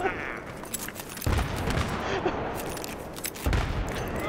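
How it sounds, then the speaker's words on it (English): Battlefield 3 gunfire rattles in bursts with a couple of heavier booming impacts, close and loud over a noisy battlefield backdrop. "They're shooting at us!"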